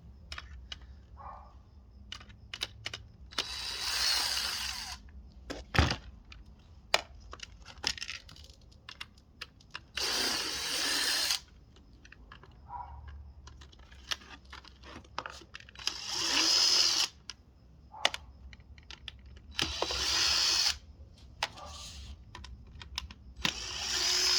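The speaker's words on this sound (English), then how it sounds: "It is easier if you do use a screwdriver." A power screwdriver drives screws into a football helmet in repeated short whirring bursts separated by quiet pauses and light clicks and handling noises, close up.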